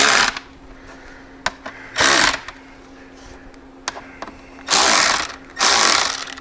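Screws are driven into plastic holes on an Advanblack 6x9 speaker lid, cutting their own threads, with several loud sustained ratcheting bursts and sharp clicks in between, close up and without talking.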